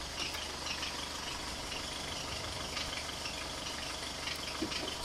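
A Nissan X-Trail T30 2.2 dCi diesel engine idles steadily and quietly after a fuel filter service, a low constant rumble with a faint even clatter and no other sounds.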